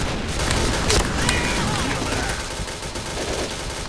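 Rapid gunfire from an M1014 shotgun in the game Point Blank, a dense, loud burst of overlapping shots with no clear gaps, continuing throughout with game noise behind it.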